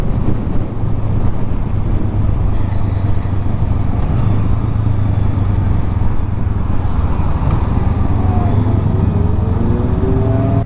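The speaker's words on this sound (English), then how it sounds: "Look at all the bikes pulling up." Motorcycles pulling up at a bike meet, a loud continuous engine rumble with wind buffeting the microphone and no clear pauses.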